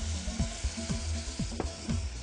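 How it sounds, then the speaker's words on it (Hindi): Milk is poured into a pan where flour is frying in olive oil with golden garlic, giving a steady close sizzle with a few sharp spoon-like clinks and splashes recurring at roughly half-second intervals. "और फिर ऊपर से 100 मिलीलीटर दूध के आप पैन में डाल दें।"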